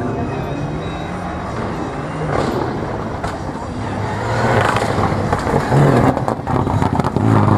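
A Renault Clio Williams, car number 36, runs a slalom course. A continuous mid-distance engine drone swells and fades under steady background noise, growing louder toward the end, while a commentator talks over it.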